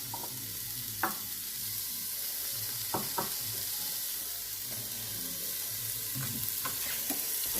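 Onions fry in a couscous pot with a steady soft sizzle, punctuated by several spoon clicks and scrapes against the pot.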